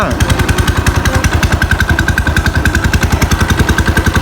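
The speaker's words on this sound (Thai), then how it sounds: "โอ้เสียงท่อโคตรกระป๋องนะครับ" A motorcycle exhaust rumbles loudly up close in a fast, even, rattling putter, holding a steady idle rather than climbing.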